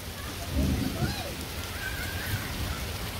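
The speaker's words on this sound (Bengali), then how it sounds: "তো অনেক জোরে কিন্তু বৃষ্টি নামছে" Heavy rain pouring down in a village, a dense steady roar of falling water, loud and continuous throughout.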